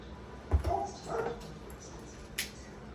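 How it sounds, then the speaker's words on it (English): A dog barks in the background of a home kitchen during Easter meal prep, with a couple of short, faint yips early on and another brief one later. No one speaks. "Pardon the dog barking in the background."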